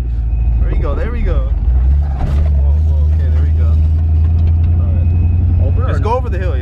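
A supercharged Fox Body Mustang pulling away in first gear, its loud low engine drone steady and close inside the cabin while people talk over it.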